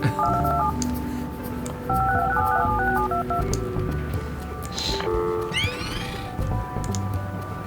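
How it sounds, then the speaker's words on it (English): A phone line being placed in the office-tower building game Project Highrise gives a few quick dial-tone style beeps over steady background music, followed by short chirps. "That placing phone lines is the best sound."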